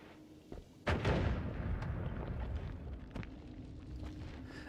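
A bomb blasting in the video game Noita: a single sudden heavy boom that rolls out into a long rumbling decay, loud against a quiet background.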